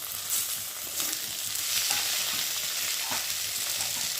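Onions with ginger paste, garlic paste, cumin paste and chopped tomato frying in a pan for egg curry, a continuous sizzle with occasional soft scraping knocks from stirring, no voices.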